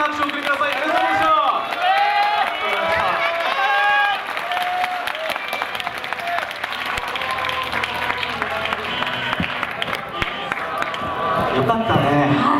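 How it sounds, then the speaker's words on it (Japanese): Studio audience applause greets a professional baseball pitcher appearing as a guest on a Japanese TV show, a steady wash of clapping and cheers running under continuous talk. "未来のエース小笠原慎之介投手を大きな拍手を送りください"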